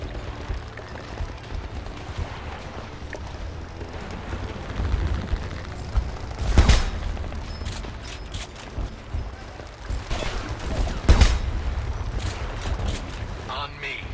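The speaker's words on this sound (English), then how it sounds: "More gunfire. I hear it." Gunfire crackles through a Homefront video game scene, scattered sharp shots and short bursts over a low rumbling backdrop, moderately loud and without talk.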